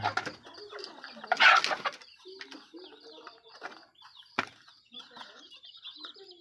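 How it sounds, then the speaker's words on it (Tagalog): Chicks in a hatchery cheeping and peeping in a quick, busy chorus close by, with a brief rustle of handling or flapping near the start and a sharp knock partway through. "Ito naman yung ating sisiw."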